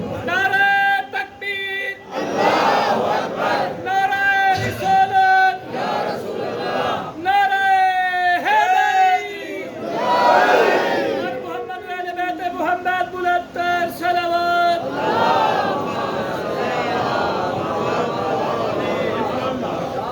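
A large crowd chants slogans in unison, with loud rhythmic bursts of many voices rising and falling close by, separated by brief pauses.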